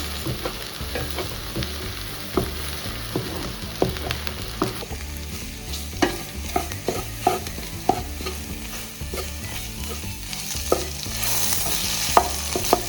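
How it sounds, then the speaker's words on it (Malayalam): Egg being scrambled with ivy gourd in a hot pan: continuous frying sizzle with frequent sharp ladle scrapes and knocks against the pan, close and fairly loud, no talking. "ഇനി നമ്മൾ സ്ക്രാമ്പിൾ ചെയ്തെടുക്കണം"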